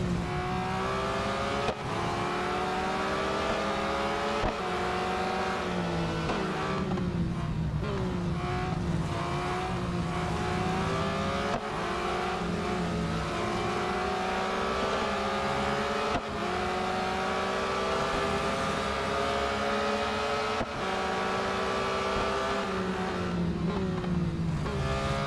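A BMW M3 GTR racing engine in the Real Racing 3 video game revs and shifts continuously, rising and falling through the gears with several short breaks, loud and close, alongside other race cars.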